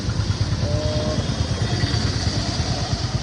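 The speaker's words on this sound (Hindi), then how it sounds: "मेरी तो बाइक चला चला के हालत ख़राब हो गई थी" Motorcycle ridden through rain, its engine a steady close rumble with wet road and wind hiss all around, continuous and loud with no speech.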